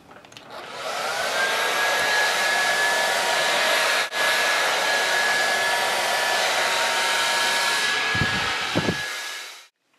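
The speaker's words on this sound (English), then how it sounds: "lightly skim on the top of your brush and blow dry over the section" A hair dryer blows steadily at close range while bangs are dried over a brush, a loud continuous whine that briefly dips once and then cuts off near the end.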